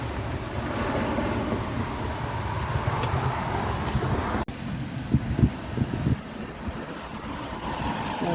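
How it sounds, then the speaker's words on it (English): Gusty wind roaring and buffeting a microphone outdoors during a severe storm with a tornado warning, a steady loud rush with a sharp break midway and a few heavier thumps. "We're getting a little bit of gusty winds right now."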